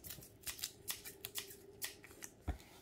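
Scissors snip through tape during a gold-painted rainbow sticker puzzle craft, a quick series of about a dozen short, crisp close cuts in an uneven rhythm, with a soft thud near the end.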